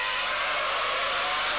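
Ferrari Formula 1 car at the 1995 Monaco circuit on old tyres, its back end sliding, giving a steady loud high-pitched engine scream with a hiss of tyre scrub for under two seconds.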